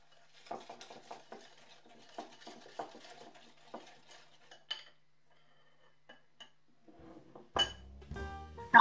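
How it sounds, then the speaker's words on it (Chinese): Egg yolks being whisked with fine sugar, cornstarch and vanilla in a bowl, a quick series of light clinking taps of utensil against bowl, followed by sparser clinks and a few louder clatters near the end. "现在往蛋黄中加入细砂糖、玉米淀粉、香草精，搅拌均匀。"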